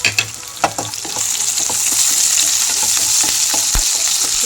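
Mysore papu curry frying in a pan with curry leaves, a steady bright sizzle with a few sharp scrapes of stirring near the start, loud and close with no talking.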